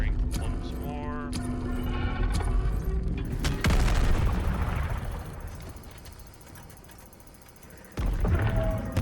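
Helldivers 2 gunfire rings out as heavy booming shots and a dense burst of firing with mechanical clatter, loud and close, then fades before another blast near the end.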